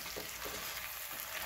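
Corned beef being broken up with a spoon in a hot pan for a Caribbean dish, a close sizzle with a few soft scraping stirs and no talk.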